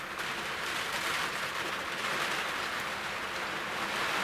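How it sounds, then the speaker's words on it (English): Steady rain falling outside a house, a dense even hiss that holds without change, moderately quiet and with no talking. "Oh, there's the rain."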